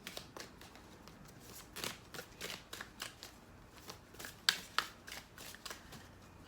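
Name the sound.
shuffling tarot cards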